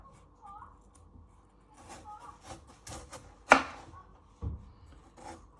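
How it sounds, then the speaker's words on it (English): Knife slicing through raw potatoes on a chopping board for a hotpot topping, a series of soft separate cutting strokes, one louder and sharper near the middle, close and moderately quiet. "you get your knife and you want to finely slice them, but not too thin or thick"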